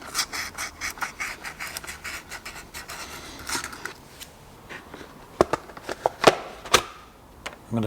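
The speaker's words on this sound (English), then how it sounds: "I'm just going to clean it up using a bit of Scotch-Brite and then some really fine emery cloth" Scotch-Brite pad and fine emery cloth scrub metal during Volvo Penta marine engine oil seal work, producing close, irregular rubbing and scratching strokes that turn sharper and more forceful toward the end.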